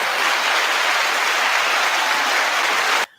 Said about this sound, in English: I need to give them a round of applause.